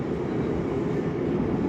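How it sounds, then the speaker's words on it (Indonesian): The KA Argo Muria passenger train on the Semarang–Jakarta line runs along the rails near Semarang Poncol station, giving a continuous loud low rumble with steady broadband rolling noise throughout. "Kita menyusul kereta api Kaligung ya, yang tujuannya Tegal"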